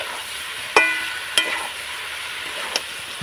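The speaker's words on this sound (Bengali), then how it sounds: "তো গুড়টা দিয়ে আমি নাড়াচাড়া করে নেব।" A spoon stirring amla with jaggery in a pan, no water added, giving a soft sizzle under three sharp scraping clicks spaced about a second apart.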